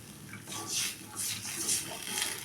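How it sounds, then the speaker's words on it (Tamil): Water bubbling at a steady boil in a cooking pot for dried fish curry, a close, continuous rushing simmer with soft surging swells and no voices. "அந்த தண்ணி நல்லா கொதிக்குதுங்க."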